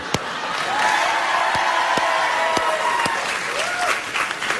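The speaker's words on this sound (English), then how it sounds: "We're applauding them" A television studio audience at a late-night talk show breaks into steady, loud applause mixed with a few cheers, close and continuous throughout, with brief voices faintly underneath.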